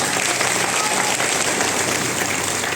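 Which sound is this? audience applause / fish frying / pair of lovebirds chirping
audience applause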